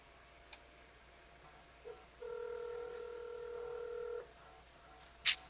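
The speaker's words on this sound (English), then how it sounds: "Hold on, I'm gonna call his phone." A phone call being placed, with a few faint key taps, then one long steady ringback tone, then a sharp click or beep near the end.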